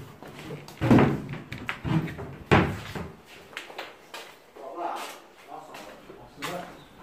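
A door in an old house opens or closes with a couple of wooden knocks and bumps amid close voices talking over it.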